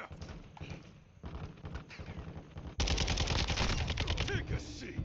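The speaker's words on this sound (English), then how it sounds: "Enemy fire." Enemy gunfire in Call of Duty: Modern Warfare 2, rapid automatic shots first muffled at a distance, then suddenly loud and close in a dense burst of cracks over rumbling combat sounds.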